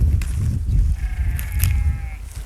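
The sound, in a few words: goats bleating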